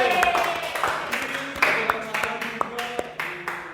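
Classroom applause for a student group during a micro teaching session, a small scattering of claps with a few sharper hand strikes fading over a few seconds.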